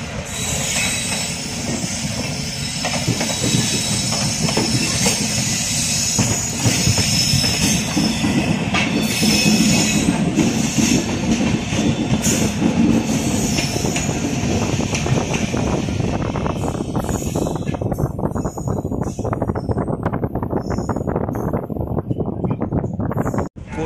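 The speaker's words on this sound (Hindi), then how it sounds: "सामने जो आप ट्रेन देख रहे हैं ये है गोल्डन टेम्पल मेल" The Golden Temple Mail passenger train, running from Amritsar to Mumbai, rolls past close by with a loud, steady rumble of wheels and carriages and squealing rails, easing off toward the end.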